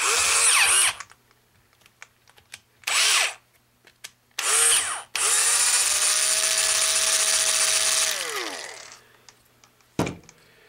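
A power drill bores a hole with a 13/64 inch bit while a 10/15/20m trap vertical antenna is being built. It whines loudly in short bursts, then in one long steady run of about three seconds, ending with a brief final blip.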